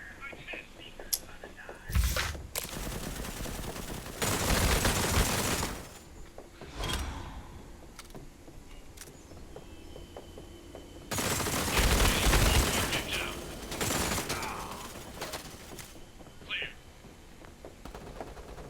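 Shotgun blasts in a mobile shooter game, several loud broadband bursts spread irregularly across the stretch, some lasting a second or more, over low game ambience with no talk during the shots.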